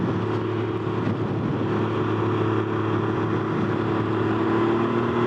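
A Can-Am Ryker three-wheeler's engine drones steadily up close in eco mode, a continuous low rumble with wind noise that builds gradually as it pulls away under throttle.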